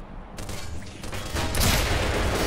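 Gunfire in the video game Black Mesa, made up of dense bursts of rapid shots and booming reports that grow louder and more continuous toward the end.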